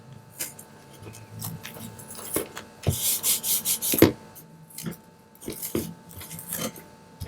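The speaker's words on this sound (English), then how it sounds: "Now I'm just covering the back sides with painter's tape." Painter's tape being pressed and rubbed onto the backs of handmade coasters, soft close rubbing and scraping strokes with a few sharp crinkles and taps, intermittent and fairly quiet.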